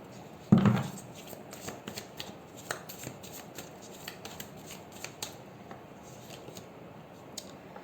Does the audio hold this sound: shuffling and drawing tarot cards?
yes